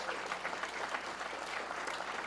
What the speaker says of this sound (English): Give Ofer a round of applause.